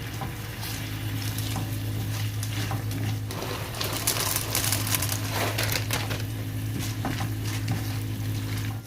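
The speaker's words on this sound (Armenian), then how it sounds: "Ավելացնում ենք եգիպտացորենը և արդեն խառնում ենք։" Corn kernels being stirred in a hot pot to make sweet coloured popcorn. A steady sizzling hiss sits under continuous scraping and rattling from the stirring, loud and close, with no talking.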